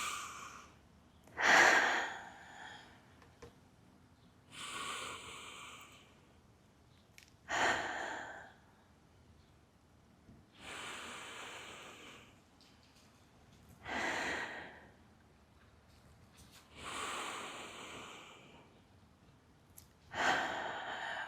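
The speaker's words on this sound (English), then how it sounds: "Taking some deep breaths." Slow, deep breaths recur at a calm, even pace during a home balance workout, each inhale and exhale clearly audible and close, with no speech.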